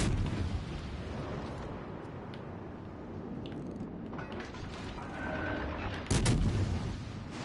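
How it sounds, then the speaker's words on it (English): Japanese IJN cruiser guns fire in World of Warships Legends, giving dull booming blasts and mechanical rumble under a steady noisy background, with a sharper burst of firing near the end. "Seems like only 3 or 4 shells are launching."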